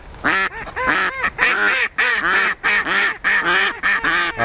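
A Semyonov breed decoy duck quacks loudly and close, a rapid series of about a dozen harsh, nasal calls in quick rhythmic bursts with brief pauses between them.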